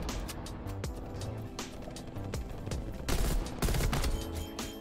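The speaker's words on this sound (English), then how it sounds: "You can actually one burst people with the M16." Bursts of M16 rifle fire in Call of Duty Black Ops Cold War multiplayer, sharp repeated gunshots crackling over a busy game soundscape, with heavier bursts near the end.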